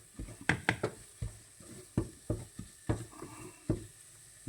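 Spices roast in a pan for a tamarind-free tuna fish curry, scraped and stirred in a steady rhythm of soft scraping strokes over faint sizzling, close and quiet, without talk.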